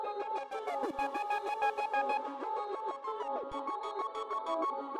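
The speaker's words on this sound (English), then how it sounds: "The reverse reverb and the main reverb on the entire vocal switched it up" Vocal processed in FL Studio with reverse reverb from the Temperance Lite plugin, a layered tonal wash with swelling pre-echo tails and bright pulsing harmonics running continuously through the passage.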